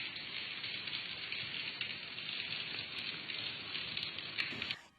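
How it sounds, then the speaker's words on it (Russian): Rain pours through an old leaking roof onto a theatre stage, a steady hiss of falling water and patter on the surface that carries on evenly before cutting off near the end. "Весной протекла старая крыша, и теперь, когда идет дождь, на сцене начинается потоп."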